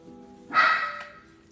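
A young dog that wants to play lets out a single bark, with a short yelping tail, indoors against a quiet background.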